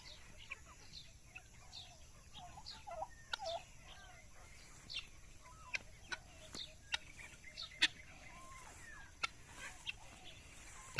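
Chickens and chicks in a backyard flock kept penned on a rainy day in the provinces give scattered soft clucks and peeps, with occasional sharper calls, all fairly faint against steady background noise.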